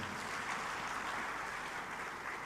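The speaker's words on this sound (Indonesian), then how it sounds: "Tepuk tangan untuk Bapak Ibu sekalian." Audience applause at an agrarian reform summit in Bali, a steady, faint, distant wash of clapping filling the whole stretch with no talk.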